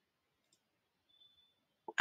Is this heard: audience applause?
no